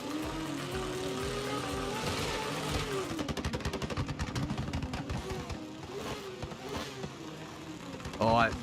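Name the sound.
drift cars revving engines on the start line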